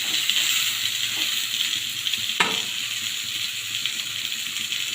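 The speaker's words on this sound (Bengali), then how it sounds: "এবার আলু পটলটা দিয়ে একটু ভেজে নেব।" Prawns, potato and pointed gourd fry in a pan with a steady, close sizzle and hiss throughout, broken by one brief clatter midway.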